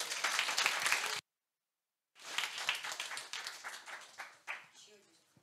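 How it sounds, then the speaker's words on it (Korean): A congregation at a gospel revival meeting bursts into applause, cuts off abruptly, then resumes in a thick round of clapping that tapers and scatters, with a voice briefly audible near the end. "두 분 수고했어요. 박수로."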